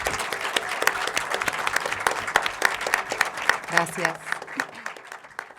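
An audience at a panel talk with two actors breaks into sustained, dense applause that fades slightly near the end, with a brief spoken word over it.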